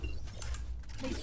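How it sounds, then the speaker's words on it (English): Weapon reloading in Valorant, a brief, faint run of mechanical clicks and ratcheting metal handling over low game ambience. "Reloading."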